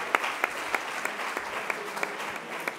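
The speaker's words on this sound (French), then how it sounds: "Là, vous pouvez l'applaudir." A small audience claps steadily, a brief round of applause with distinct individual claps, fairly quiet and close.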